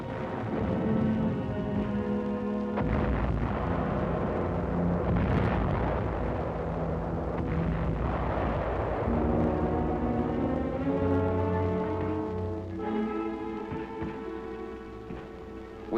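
Mortar fire striking a WWII ammunition dump on Angaur, with loud, sustained rumbling explosions and bursts rolling on throughout, mixed with a layered war-film soundtrack.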